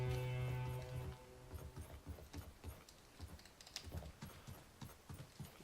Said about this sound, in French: On va remonter sur notre petit poney. Et on va repartir.